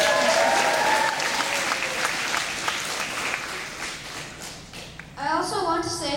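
Dense applause with scattered cheers from a large crowd of students at a Grade 5 graduation, tapering off before someone starts talking at the end.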